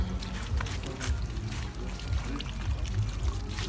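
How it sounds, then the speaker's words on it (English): Hands are washed under a running tap, with a steady, continuous splash and flow of water close by and no talking. "We are going to wash our hands there."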